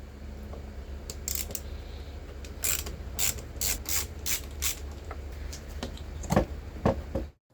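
A ratchet works a 10mm nut loose on a 2016 Kia Niro hybrid, a close series of quick clicking bursts in an irregular rhythm over a low steady hum, ending abruptly.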